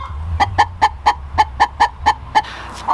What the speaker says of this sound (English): this chicken singing her egg song